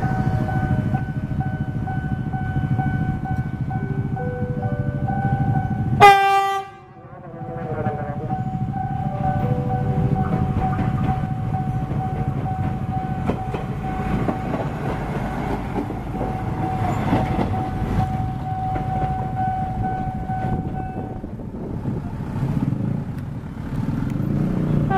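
A train passes the JPL 46 level crossing at Pondok Jati, Indonesia, its loud horn blast cutting through the steady ringing crossing bell and the rumbling roll of the cars, with the bell continuing after the horn ends.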